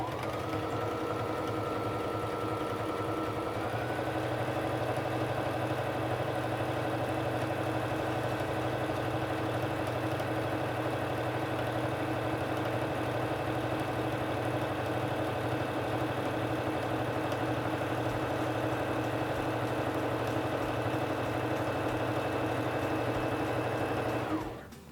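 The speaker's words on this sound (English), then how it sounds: "press on the foot control to begin sewing" A Singer Fashion Mate 3342 sewing machine running a honeycomb stitch, its motor whirring steadily at close range with a rhythmic needle chatter, speeding up after a few seconds and stopping at the end.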